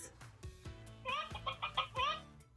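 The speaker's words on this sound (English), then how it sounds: "Chicken." Chicken clucking from a Paw Patrol interactive farm book: a quick series of four or five sharp electronic clucks played close, with button clicks before it.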